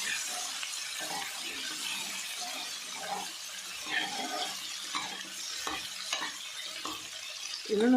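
Chopped onions fry in a pan over full flame for a shimla mirch paneer dish, a soft steady sizzle broken by scraping stirring strokes, quiet and close.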